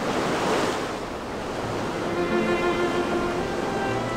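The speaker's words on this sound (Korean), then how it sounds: "풀 한 폭이 뿌리 내리기 어려운 화산섬의 거친 바다." Rough sea around a volcanic island crashes and surges in a continuous roar of surf, mixed with wind noise and no voices.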